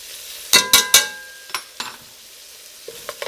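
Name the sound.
stirring garlic into sizzling pan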